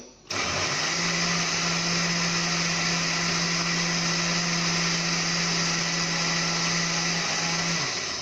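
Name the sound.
blender running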